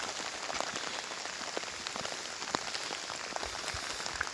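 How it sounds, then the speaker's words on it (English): Steady hard rain patters on a hiking trail at Grayson Highlands, a dense continuous hiss with individual drops tapping nearby, no voices. "Rain's coming down pretty hard now."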